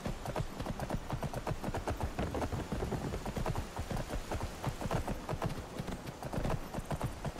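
Horse hooves clip-clop at a steady trot in Skyrim, close and continuous, with rapid regular beats over a soft background wash and no talking.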